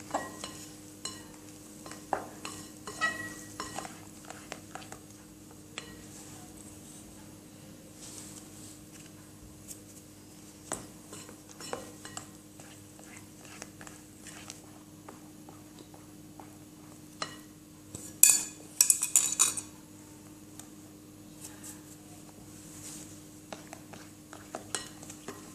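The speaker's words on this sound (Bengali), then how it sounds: "এখানে আমি হালকাভাবে নেড়ে মিশিয়ে দেব।" A spoon lightly stirs cake batter of flour and milk in a bowl, giving faint, intermittent scraping and soft clinks over a long stretch, with a louder clattering burst partway through.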